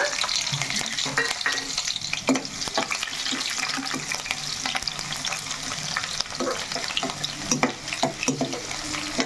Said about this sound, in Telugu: ఉల్లిపాయ కొంచెం మనకి ఫ్రై అవ్వాలి బ్రౌన్ కలర్లో రావాలి